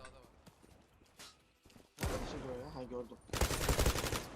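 Gunfire in the Zula battle royale video game, with sporadic distant shots early, then two loud bursts of rapid shots, with players talking over them.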